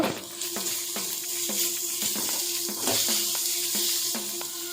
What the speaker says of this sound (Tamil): வெங்காயம் நல்லா வணங்கி வந்ததும் நம்ம எடுத்து வச்சுருக்கிற இஞ்சி பூண்டு பேஸ்ட்டு அதில் சேர்த்துக்கலாங்க